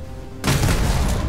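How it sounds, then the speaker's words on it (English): A shotgun fires in the Starfield video game: one sudden, loud close blast cuts in after a quiet moment and is followed by a dense, rumbling tail that lingers. "I'll try my shotgun."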